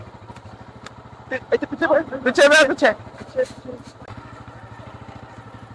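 A motorcycle engine idles nearby with a steady low chugging pulse throughout, while excited voices shout loudly over it for a few seconds in the middle.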